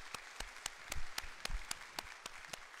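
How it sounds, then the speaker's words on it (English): A church congregation at a worship service claps, a faint, uneven patter of scattered individual claps heard from a distance. "Can we give a clap offering to God for Caitlin?"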